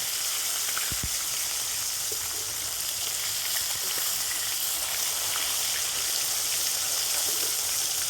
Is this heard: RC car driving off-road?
no